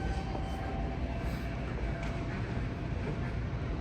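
A 2008 MEI in-ground hydraulic elevator motor at an airport terminal runs in a loud, steady, broadband drone with faint tonal whine, continuous throughout.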